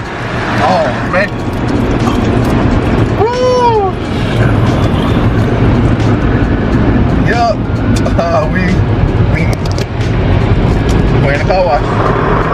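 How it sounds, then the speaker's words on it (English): An automatic car wash runs around a car, its steady loud roar of spray and brushes filling the whole stretch while people talk over it. "We're in the car wash."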